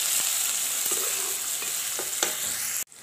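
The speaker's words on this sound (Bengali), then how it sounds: "শুকনো মাছগুলো সবগুলো একসাথে অল্প ভেজে নিচ্ছি" Dried fish (shutki) fries with onion and garlic in hot oil, a close, steady sizzle with occasional stirring scrapes and clicks, ending in a sharp knock.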